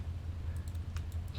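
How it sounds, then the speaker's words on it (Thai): A handful of quick, faint computer keyboard key taps, scattered clicks over a steady low hum with no voices. "นี่เสียงคีย์บอร์ดผมดังไหมทุกคน"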